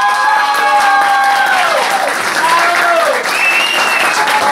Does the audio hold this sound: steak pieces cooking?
no